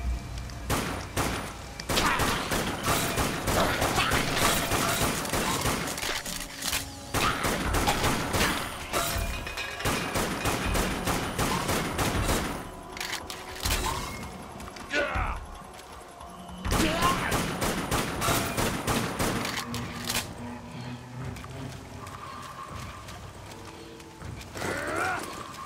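Rapid rifle fire in the zombie shooter Dead Nation on PS4: long stretches of fast, loud cracking shots with short pauses between bursts, backed by a busy din of in-game action.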